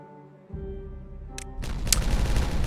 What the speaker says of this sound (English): Boom, done. Not as big as our earlier explosions at the start of the episode